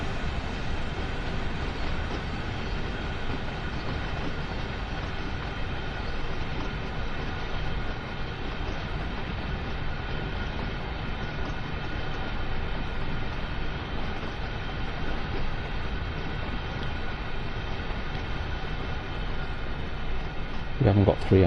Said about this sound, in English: Another train running alongside us. Wow, very long train.